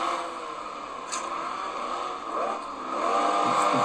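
Old cars racing on a city track in a video game, a mid-pitched engine drone that rises and revs toward the end, heard alone without talk.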